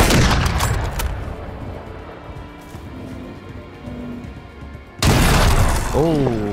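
Sniper rifle gunshots in a first-person shooter match: sharp, loud cracks with broadband bursts at the start and again near the end, one shot close and heavy, with a voice speaking over the game sounds.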